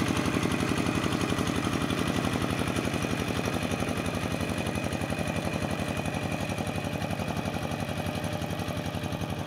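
A rice field tractor ploughing a paddy on a second pass, on ground long unploughed and short of water; its engine chugs in a steady, fast, close rhythmic putter with no pauses.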